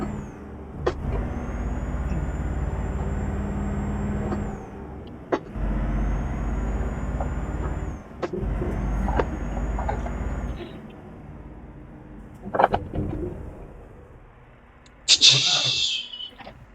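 A 32-tonne truck in Euro Truck Simulator 2 drives a perilous 'road of death' route, its diesel engine droning steadily with gear-change breaks, hissing air brakes and clunks, under someone talking.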